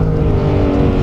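The naturally aspirated engine of a Porsche 911R, a GT3 RS engine in a GT3 chassis, drones loudly and steadily at high revs, close and continuous with no talk over it.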